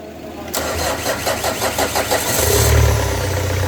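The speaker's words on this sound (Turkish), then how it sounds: "Bas marşa." A car with a weak battery, after sitting idle for four months, cranks in a string of rapid starter pulses, then the engine catches and settles into a rough idle, close and loud.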